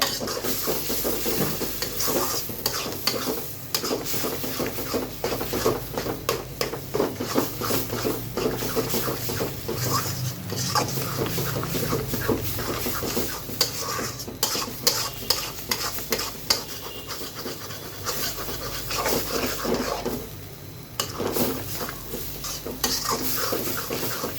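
Beef brain frying in oil in a pan, a loud continuous sizzle and hiss with constant stirring, spoon scrapes and clinks against the pot, close up, with no talking.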